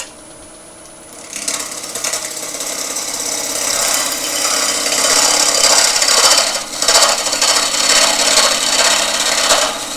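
Sanding or rasping noise from cleaning up the base of a wooden kintsugi bowl with resin repairs. It starts quietly, then becomes steady, close scraping friction that stays loud and continuous with brief dips.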